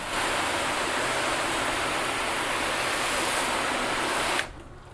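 Hose water sprays steadily onto a car panel in a continuous close, loud hiss that runs unbroken for several seconds, then cuts off abruptly near the end.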